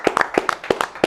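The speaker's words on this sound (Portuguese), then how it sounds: "Salva de palmas a Regina Lima." Applause for a guest in the studio of a Brazilian football talk show: a brief, lively burst of hand claps from a small group, crisp and close, with no talking.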